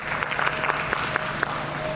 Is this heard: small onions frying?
no